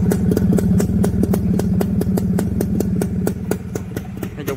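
A 2000 Suzuki Satria motorcycle with an aftermarket exhaust idles up close, a loud, steady rapid popping pulse with even mechanical clatter throughout.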